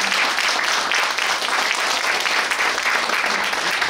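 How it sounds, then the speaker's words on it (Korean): Sustained audience applause fills the room at a regional branch office opening ceremony in Busan, dense steady clapping throughout with no pauses and only faint voices underneath. "다시 한번 한 박수를 보내주십시오"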